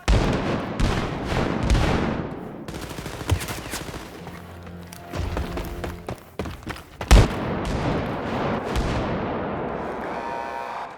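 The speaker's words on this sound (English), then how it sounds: "Shooting his rockets." Rockets and heavy gunfire fill a Wolfenstein Youngblood firefight, with repeated loud blasts and booming impacts, bursts of rapid shots, and a sharp explosion near the middle. Dense, close and layered, with no talk.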